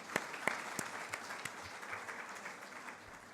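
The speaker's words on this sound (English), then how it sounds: "So, claps for him, please." Audience applause at a book launch event, a steady patter of clapping with a few sharper individual claps standing out near the start, moderately distant and filling the room.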